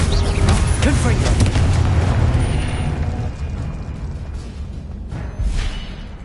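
A fiery blast and rumbling burst from the Confringo spell in Hogwarts Legacy, loud at first with whooshing debris, then fading into a lower rumble with a smaller pop near the end.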